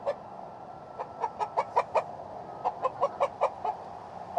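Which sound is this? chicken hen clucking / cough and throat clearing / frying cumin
chicken hen clucking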